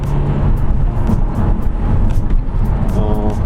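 A Hyundai Kona diesel engine drones loudly from inside the cabin, revving steadily at high RPM with road noise throughout.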